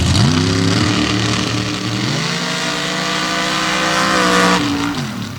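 Outlaw pro stock drag cars, one with a 632 cubic inch nitrous engine in the near lane, launch together at a dirt track; loud, sustained roaring engines rise in pitch through gear changes, then fade near the end.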